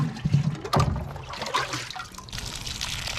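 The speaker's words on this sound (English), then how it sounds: "let's just water these in now" Water pours and trickles onto newly planted bean and pea seedlings in garden soil, a splashing burst at first, then softer irregular dribbling that carries on throughout, close by and with no talk.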